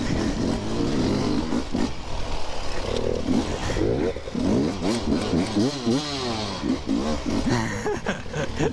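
KTM enduro motorcycle ridden around a track at an amateur play day, its engine loud and close with repeated revving rises and falls as the rider works the throttle through the lap, with a brief voice in the background.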